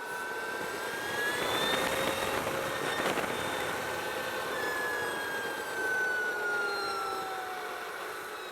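Electric motor of a 2023 Energica Experia motorcycle while riding: a continuous whine with rising and falling tonal pitches over broadband road and wind rush, steady and fairly loud throughout, with no talking.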